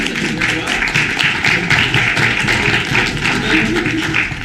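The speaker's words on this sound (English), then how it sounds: "Round of applause for them." Guests at a wedding reception applaud the children, a steady patter of many hands clapping indoors for several seconds with faint background voices.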